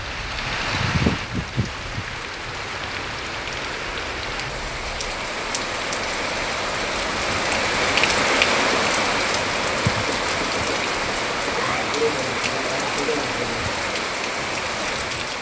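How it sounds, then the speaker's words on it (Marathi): Steady unseasonal rain falls in the Sawantwadi–Kudal area of Maharashtra, a dense even hiss of drops on surfaces with a few louder nearby splashes early on, continuous and alone with no voices. "सावंतवाडी कुडाळ तालुक्यात अवकाळी पाऊस झाला"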